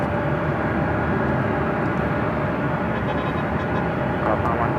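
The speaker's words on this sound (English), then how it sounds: "ANA on the Pod Airways, flight 125, heading back to Tokyo Haneda in the" An ANA Boeing 787-9 Dreamliner jet airliner at Los Angeles airport, a steady broadband engine roar held at constant loudness throughout, with no voices over it.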